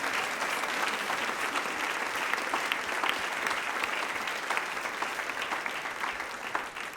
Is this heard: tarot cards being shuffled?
no